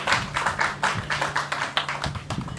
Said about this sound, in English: I would like you to give him a resounding round of applause